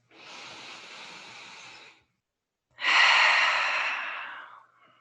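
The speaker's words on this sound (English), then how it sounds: "Option to take 1 collective breath with me, starting by exhaling the air out. Inhaling through the nose." Two slow, deliberate breaths during a guided yoga practice: a long airy exhale, a short pause of silence, then a louder, fuller nasal inhale that tapers off, close and clear with no talking.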